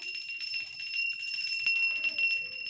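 A small hand bell rings continuously during evening home prayer, with bright, sustained metallic tones, moderately faint, with no talking.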